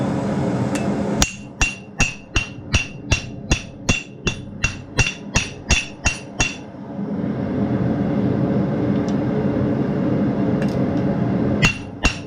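Blacksmith hammering a texturing tool into hot steel while forging a dinner bell, a steady run of about fifteen sharp ringing strikes close by, then quiet shop hum and a couple of final taps.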